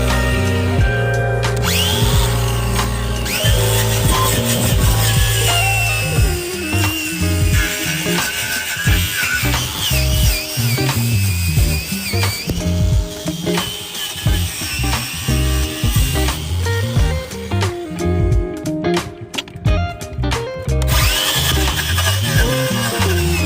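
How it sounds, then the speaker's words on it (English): A wire wheel on a power tool grinds rust off the body of an old 1980 supercar, a loud, continuous, harsh whirring and scraping that varies in pitch as it works across the metal for over twenty seconds. "let's hit it with a wire wheel and see what's left"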